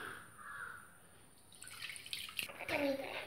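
Boiled and cooled water is poured into a bowl while preparing a banana stem pickle: a short splashing pour near the end follows a quiet kitchen background.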